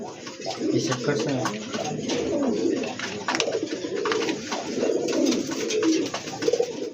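Satin pigeons coo in low, rolling murmurs throughout, with a voice talking over them and some faint background clatter.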